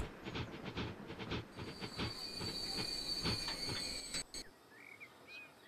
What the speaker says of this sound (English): let's jump on board this train